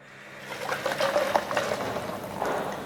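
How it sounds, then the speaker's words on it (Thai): Hot water is poured out of a plastic bottle after shaking, giving a close, uneven gurgling and splashing stream that builds in the first half second and carries on throughout. "เมื่อเขย่าเสร็จเทน้ำร้อนออกค่ะ"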